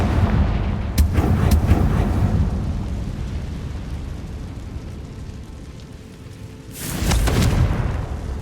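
A fire-spell explosion in the Hogwarts Legacy video game erupts as a loud booming blast with crackling bursts that fade, followed by a second heavy boom near the end.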